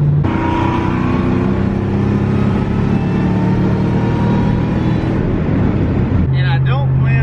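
A car drives down the road on the way to Boost Fest with a loud, steady engine and road drone inside the cabin, then the engine note shifts near the end while a voice talks over it.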